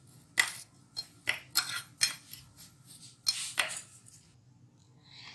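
A spoon clinks and scrapes against a bowl while a coating powder for zinger rice is mixed together. A string of sharp, close taps comes at an irregular pace, then fades out.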